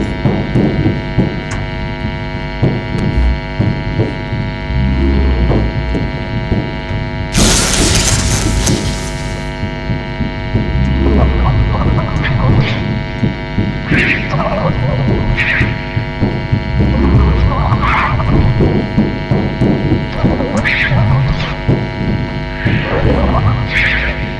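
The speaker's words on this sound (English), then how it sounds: "Let's zap her." A sharp electric zap in the Five Nights at Freddy's: Sister Location video game bursts out as a bright crackling blast lasting about a second, over a steady electrical hum and throbbing low drone.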